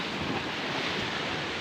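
Big sea waves churned up by a typhoon, a dense, steady roar of surf mixed with gusting wind buffeting the microphone, loud and continuous with no voices.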